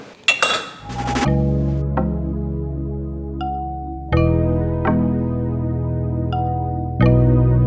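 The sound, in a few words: runner bean chutney being potted into warm glass jam jars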